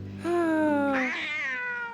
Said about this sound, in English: Oh, poor kitty. Hey, let the cat out of the box, dude.